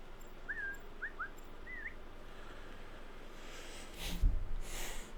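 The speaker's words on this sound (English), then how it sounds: "we're gonna use the whistle" A few short rising whistled chirps sound faintly over the quiet outdoor ambience of Assassin's Creed Shadows, a lure whistle for enemies, followed near the end by a brief thump and rustling.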